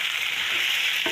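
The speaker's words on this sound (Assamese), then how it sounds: "মই ৰান্ধি মেলি কেনেকৈ দিব, গতিকে সেই ৰান্ধি দিছোঁ স্পষ্ট ভাজিম পিঁয়াজ দি" Sliced squash with onion sizzles steadily in hot oil in a pan, a close, bright hiss with a brief stirring scrape near the end.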